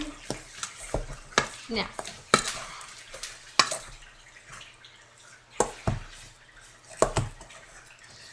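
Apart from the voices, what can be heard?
stirring Italian meatball mixture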